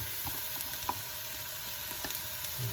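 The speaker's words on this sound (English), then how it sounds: "I'm going to let this saute a little bit longer in there too." Tomato paste sautés in a pan for marinara sauce, a quiet, continuous sizzle with a few faint scrapes and ticks.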